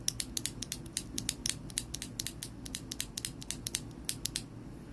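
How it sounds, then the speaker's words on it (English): Stock Outemu Panda mechanical keyboard switches are pressed in a quick, uneven run of sharp, close clacks over a low steady hum, with no talking. "This is the Outemu Panda. This is stock, and this is what it sounds like."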